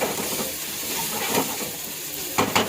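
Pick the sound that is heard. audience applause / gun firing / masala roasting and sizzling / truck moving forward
masala roasting and sizzling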